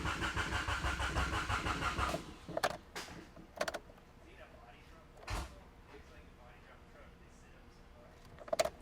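A Honda EF hatch engine cranks and catches, settling into a brief running rumble that stops at about two seconds, followed by a few sharp clicks and clunks in a quiet space.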